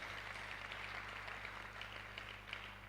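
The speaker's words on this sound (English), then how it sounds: "Please, can we give him one more time a round of applause?" Applause from a university ceremony audience honoring a representative of the Vice Chancellor, a dense, steady wash of clapping held at an even level for a few seconds with a low hum beneath.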